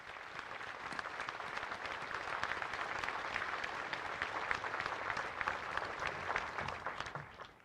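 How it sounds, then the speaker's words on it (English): A crowd at the Pearl Harbor memorial ceremony in Hawaii applauds steadily, a dense, sustained wash of clapping that holds evenly for several seconds before tapering off at the end. "Let us offer them a round of applause for their eternal courage and sacrifice"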